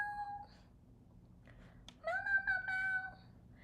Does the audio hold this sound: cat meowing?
yes